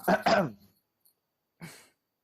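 Someone clears their throat twice in quick, rough bursts up close, followed by a short breathy exhale after a pause.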